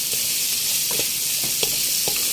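Onions fry in a pan for chicken biryani with a constant loud sizzle, and soft stirring clicks and scrapes recur through it.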